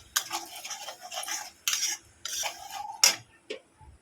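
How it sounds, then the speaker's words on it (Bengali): Spice masala of green chilli, turmeric and coriander powder is stirred in a pan, heard as close, uneven bursts of metal spoon scraping and clinking with quiet pauses between strokes. "এটাকে ভালো করে আমি কষিয়ে নেব মশলাটাকে"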